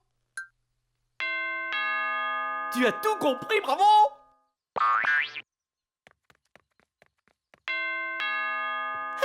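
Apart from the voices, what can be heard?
door chime ringing as a door opens or closes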